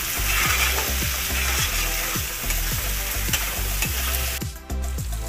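Egg curry is stirred in a hot pan after garam masala is added, with a steady oily sizzle and repeated rhythmic scraping of the spoon against the pan, close and continuous.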